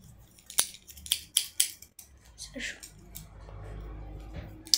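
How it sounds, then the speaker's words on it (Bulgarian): Scissors snip repeatedly in a quick series of sharp cuts while opening a package, followed by rustling and handling noises as the wrapping comes apart, with a low hum underneath. "взех ножица"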